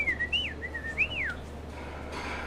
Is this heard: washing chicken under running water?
no